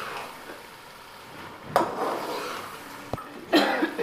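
Fried potatoes tipped into a cooking pan for masala aloo bhindi, a couple of brief clattering thuds and scrapes against the pan with a quiet sizzle in between.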